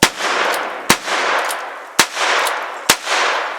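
Three sharp, loud pistol shots fired outdoors at a rustic log-cabin deer hunting camp, spaced about a second apart, each followed by a rushing wash of noise, with no voices.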